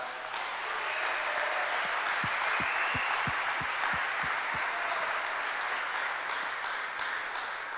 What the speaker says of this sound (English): So I want you guys to give them a round of applause as well